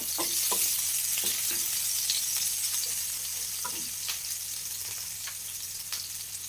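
Finely chopped onion, about a quarter of one, roasts in a hot pan with a steady broadband sizzle punctuated by occasional scraping stirs, close and fairly loud throughout, with no voices.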